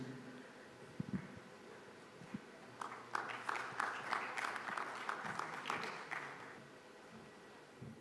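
Audience applause at a conference meeting starts after some quiet shuffling, swells into a few seconds of moderate, steady clapping from a modest crowd, then fades away.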